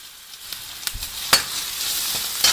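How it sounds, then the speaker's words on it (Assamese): Garlic-ginger paste sizzles in a hot frying pan for a vegetable dish, giving a steady, close frying hiss with a few sharp crackles and light stirring scrapes throughout. "এতিয়া মই নহৰু আদা পেষ্টটো দি দিম।"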